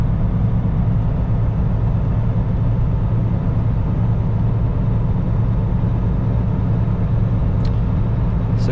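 A 50-ton red wrecker truck cruising in top gear at about 1380 RPM, with a steady loud low diesel drone and road rumble heard continuously and up close from the cab.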